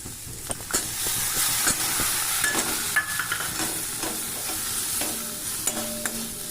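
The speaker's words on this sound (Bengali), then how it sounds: "সব কিছু একটু বেশ ভালো করে লাল লাল করে ভেজে নিয়েছি এরপর আমি দিয়ে দেবো সরষে বাটাটা" Browned vegetables and spices fry in a pan as mustard paste goes in, a steady sizzling hiss with repeated stirring clatters and spatter pops close by.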